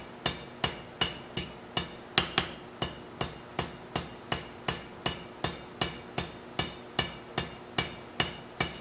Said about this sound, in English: So I'm really just planishing at this point.